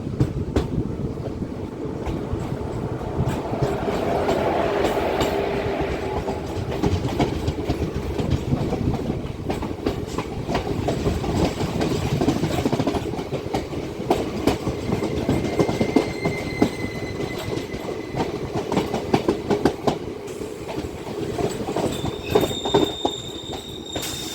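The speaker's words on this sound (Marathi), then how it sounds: "आता आपली गाडी रुपडे रेल्वे स्टेशनवरती एंटर होत आहे" The Miraj–Kolhapur DEMU train rolls into Rukadi station with a loud, continuous rumble, rhythmic clickety-clack of wheels over rail joints and drawn-out squealing of wheels, steady and close throughout.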